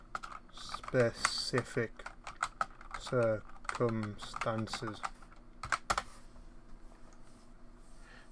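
Typing on a computer keyboard, a fast run of soft, close key clicks that keeps going under a voice and continues briefly once he stops.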